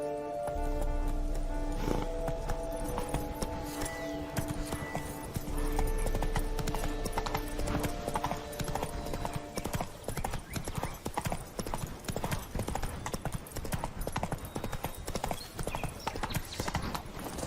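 Horse hooves clip-clopping in a fast, steady gallop in The Witcher 3: Wild Hunt, continuous and close, mixed with game music and ambience.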